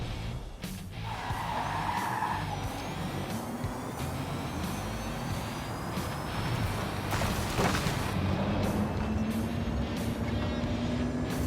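A Rimac electric hypercar accelerates hard in Forza Horizon 5, with rising motor whine and tire noise sweeping upward as it gains speed over a busy road roar.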